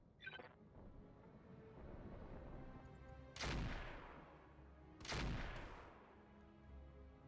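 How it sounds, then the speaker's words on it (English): Heavy weapons fire strikes a mech in the battle game Roguetech, with two loud explosive booms a couple of seconds apart over a constant low rumble and a faint earlier crack. "I'm under heavy fire"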